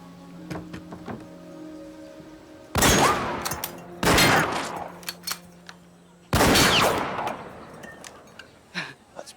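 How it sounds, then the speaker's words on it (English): Bursts of rapid trick-shot gunfire ring out in a Wild West setting, two or three dense volleys of loud cracking shots separated by brief gaps, with a few scattered single shots around them. "That's pretty impressive shooting there, Miss Oakley"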